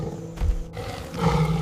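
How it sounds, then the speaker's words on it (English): Deep, guttural roar of a saber-toothed cat as a documentary sound effect, a single loud rumbling call swelling near the middle and rising again toward the end, heavy in the low end and alone without talk. "Suddenly, a deep, guttural roar vibrates through soil."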